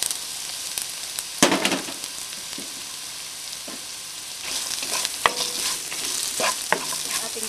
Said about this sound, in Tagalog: Hihintayin lang nating mag-brown itong ating garlic at isusunod natin yung ating onion.